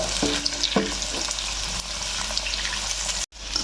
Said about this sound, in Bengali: তারপর আমি কাঁঠাল দানাটা দিলাম এটাও একটু ভেজে নেব